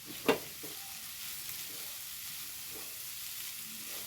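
Shrimp and amaranth stems cooking in a pan, a spoon scraping and stirring with one sharp clatter near the start, then a faint steady sizzle.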